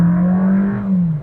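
A VW Virtus Exclusive accelerating hard, its engine note a steady loud drone that climbs slightly before easing off at the end, heard from inside the car with no talking.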